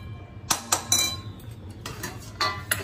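Sprouted moth bean curry being stirred with a utensil in a pan, giving several clinking scrapes of metal against the pan at irregular intervals over a low background hum, with no talking.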